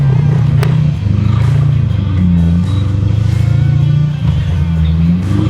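A 1966 Ford Mustang's engine rumbles loudly from inside the moving car, a deep steady drone rising and dipping as it revs and shifts, close and constant throughout.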